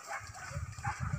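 Hunting dog barking during a wild boar hunt in Kuncia, Solok, heard as a run of short, fairly close yips and barks over a busy outdoor background.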